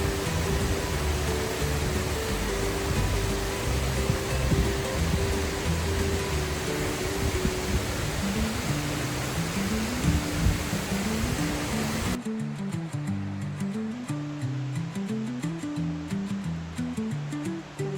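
Loud, constant roar of Spray Falls on the Wonderland Trail fills the scene, then drops abruptly to a softer rushing flow.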